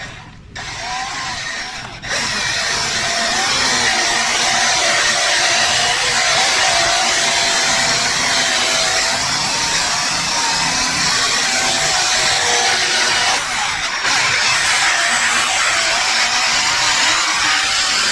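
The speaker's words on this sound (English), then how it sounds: "you hit that with sandpaper, I'll guarantee you, you're going through it" Sandpaper worked over a car's clear coat to remove scratches, heard as a steady, loud, continuous abrasive rasp close by that runs nearly the whole stretch after a brief quieter start.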